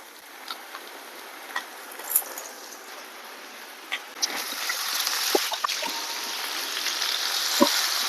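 Chicken pieces tipped into hot oil with ginger-garlic paste and turmeric, giving a steady sizzle that builds after the first few seconds, with scattered ticks and small pops from the pan and no talk.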